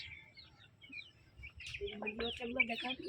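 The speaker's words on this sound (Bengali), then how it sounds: "মুরগি বাচ্চা এই যে দেখাচ্ছে" Hens cluck and chicks peep nearby, the calls growing busier toward the end over faint background noise.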